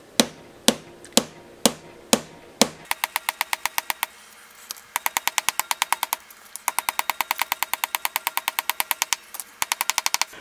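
Small hammers flatten thin aluminium sheet during an HP 3561A analyzer repair: six slow, loud, ringing blows, then fast rhythmic bursts of sharp metallic taps close up.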